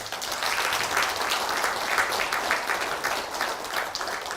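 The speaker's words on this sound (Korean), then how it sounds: "박수 한번 쳐주세요." A hall audience at a Buddhist monk's dharma talk on death and rebirth claps together in a steady, dense wash of applause that holds evenly for several seconds, with no voices over it.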